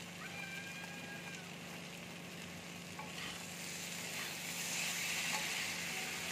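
Masala with Kashmiri chili powder fries in a pan for a masoor dal and egg dhoka dish, a quiet, continuous sizzle that rises slightly toward the end with faint stirring.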